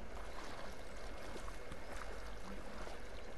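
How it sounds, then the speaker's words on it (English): Water splashing and lapping in the video game A Way Out, a faint, steady, noisy wash with no clear individual splashes. "It's splashing."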